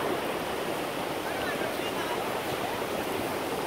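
Ocean waves wash onto a beach on a summer vacation, a steady broad roar of surf that stays constant and moderately loud throughout, with no distinct crashes standing out.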